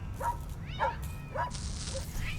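A dog barks in the cyberpunk detective video game Tales of the Neon Sea, giving three short yaps spaced about half a second apart, fairly close and moderately loud, with a faint electronic tone near the end.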